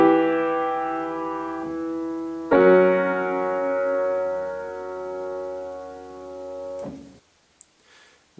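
A four-voice chord progression is played as a voice-leading example. One sustained chord moves to a second, louder chord that rings for several seconds before cutting off into near silence.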